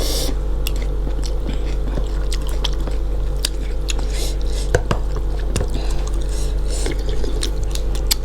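Close, wet chewing and squishy biting while eating Thai boat noodles and crunchy pork rinds, a steady soft mouth sound with small clicks and smacks and no talking.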